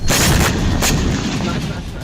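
Loud, dense rumbling blasts with sharp booming bursts, like artillery fire and explosions going off in quick succession.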